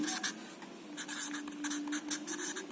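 A pen scratches across a writing surface during an electrical engineering lecture on suspension type insulators, a close, steady run of short scraping strokes with brief pauses between them.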